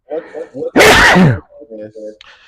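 A single loud, close sneeze cuts between stretches of conversation, with people talking before and after it.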